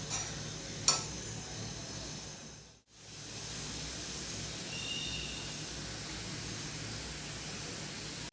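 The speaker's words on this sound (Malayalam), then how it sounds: "നന്നായി തിളക്കാൻ തുടങ്ങിയിട്ടുണ്ട്." Kerala gooseberry (amla) pickle boils in a pan with a steady, close hissing bubble and sizzle, broken briefly by a faint clink and a short drop in the noise.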